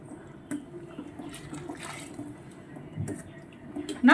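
Hot water is poured into a pot of aloo biryani, a steady soft splashing rush that swells near the end, close and alone with no talking.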